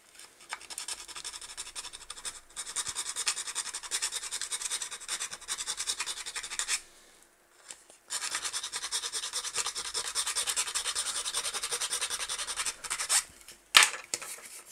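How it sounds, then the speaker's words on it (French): A plastic PS4 controller shell being filed by hand, the rasp scraping steadily and close for several seconds, pausing briefly midway, then resuming with a few louder knocks near the end. "Et après on s'occupera de limer ceci."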